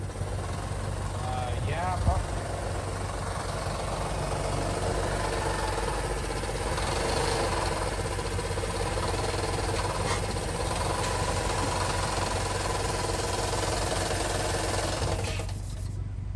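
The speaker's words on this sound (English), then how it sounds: "it's the accessory belt that's making that noise" A continuous mechanical whirring and rattling from the accessory belt of a running Honda Passport engine, steady throughout and fairly close.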